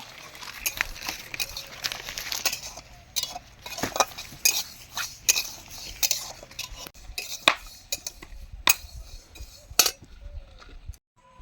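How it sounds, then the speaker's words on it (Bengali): Mung dal frying in a wok, with clinking utensil scrapes and stirring over a low, steady sizzle, close by and uneven in rhythm. "তো আমরা মুগ ডালটা ভেজে নেবো"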